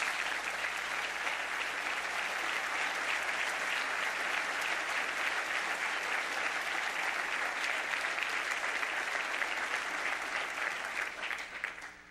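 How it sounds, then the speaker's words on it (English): A church congregation gives sustained, dense applause for a group of children, a steady wash of many hands clapping that holds evenly for about twelve seconds and then tapers off at the end. "So let's give them a round of applause."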